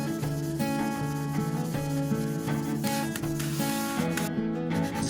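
Soft, steady rubbing as a stained wooden cover for an Iwatani CB-STV-MYD portable gas stove is lightly sanded to give it an aged finish, heard under continuous background music.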